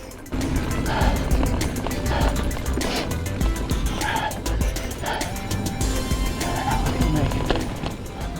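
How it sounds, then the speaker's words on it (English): A mountain bike rattles and rumbles along a dirt trail, captured by a GoPro Hero 8, with continuous chassis clatter, rapid ticking from the drivetrain and bursts of wind noise close to the mic. "Here's a clip of me riding a section of trail with HyperSmooth High."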